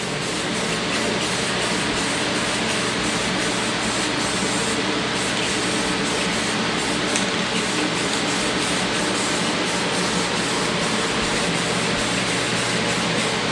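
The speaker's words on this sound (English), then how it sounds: "Yes, I know it's just a rattle can paint job," Continuous steady hiss of a Rust-Oleum rattle can spraying paint onto a lawnmower deck, loud and close, with no pauses and slight fluctuations in the spray.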